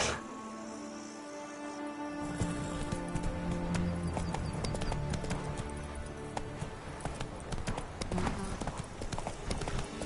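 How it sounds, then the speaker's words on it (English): Rhythmic clip-clop of Roach's hooves on the ground in the video game The Witcher 3, steady and fairly close, mixed with game music and ambience, with a brief whinny-like sound. "Whoa there, Roach."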